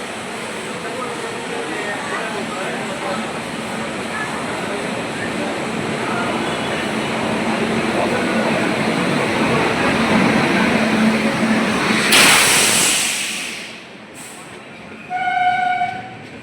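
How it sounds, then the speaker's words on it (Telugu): A passenger train rolls into a railway platform with a growing rumble of wheels and carriages that builds for about twelve seconds, then a loud horn blast sounds before the roar fades and a few shorter tones follow. "ట్రైన్ కూతేస్తా వస్తుంది. ప్లాట్ఫామ్ మీదకి ట్రైన్ వస్తుంది."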